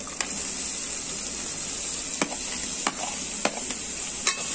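Chicken and capsicum frying in a pan give off a steady close sizzle, broken by several sharp scrapes and knocks as the mixture is stirred, with no one talking.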